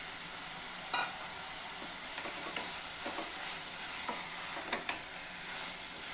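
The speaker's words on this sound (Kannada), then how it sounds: "ಇದನ್ನು ಸಹ ಚೆನ್ನಾಗಿ ಫ್ರೈ ಮಾಡಬೇಕು" Cabbage and capsicum frying in a pan for veg hakka noodles: a steady close sizzle with several sharp scrapes and clinks of a spatula stirring at irregular intervals.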